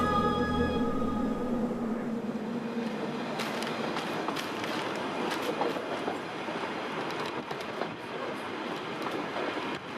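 A train rolls along at low speed, its wheels clattering and rumbling steadily on the rails, with a fading horn-like tone at the start.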